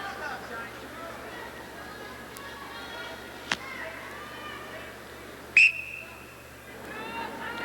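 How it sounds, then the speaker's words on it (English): At a wrestling match, a referee blows one short, sharp whistle blast amid a dull arena murmur, with an announcer's voice talking over the scene before and after. "Got to wait for that referee's whistle."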